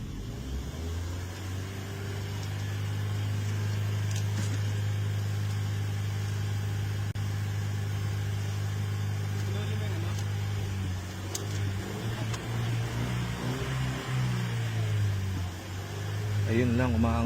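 A car engine idles with its radiator cooling fan running, a steady low hum and whirring drone close by that shifts slightly near the end, with indistinct talk over it.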